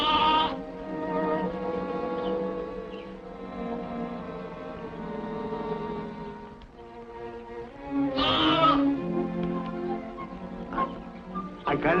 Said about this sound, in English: I hate sheep, I tell you.